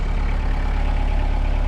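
A tractor engine runs close and loud, a steady low rumbling idle that holds without a break.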